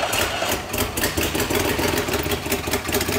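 A DeLorean engine, run on fresh fuel after old gas was cleaned out, holds a steady rough idle, close and loud, with no talk.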